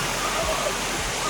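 Rushing water at the top of Williams Falls in Zomba, Malawi makes a steady broadband roar, close and continuous, with brief low thumps under it.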